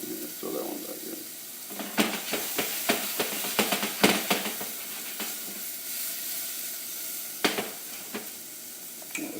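Mushrooms sizzle as they cook down in a pan on medium-high heat, a continuous hiss with scattered crackles and pops, while a person speaks over it.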